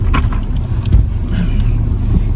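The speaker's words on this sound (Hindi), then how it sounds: "लो 4x4 लगाते हैं क्योंकि आगे रास्ता जो है ना वो काफ़ी ज़्यादा ख़राब है भाई साहब।" A 4x4 vehicle grinds along a rough, badly broken jungle road, its low engine rumble steady and close with intermittent bumps and rattles throughout.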